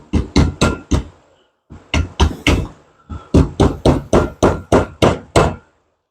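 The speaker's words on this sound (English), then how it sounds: "let's see if this hammer works. It might work. Kind of beat it down a little evenly all the way around." Hammer beating sheet metal on a 1957 Chevrolet, a run of about fifteen sharp, ringing metallic blows in three quick bursts separated by short pauses, loud and close with no talking.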